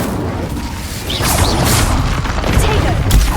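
A fiery spell bursts in Hogwarts Legacy gameplay, a loud whooshing boom with crashing, crackling impacts swelling over a few seconds.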